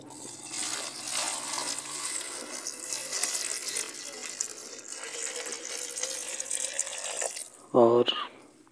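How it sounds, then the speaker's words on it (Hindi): Water pouring from a tap into a jar of onion peels, a steady splashing rush for several seconds that stops, followed by a brief clink of the jar near the end. "अब इस जार को हम पानी से भर देंगे।"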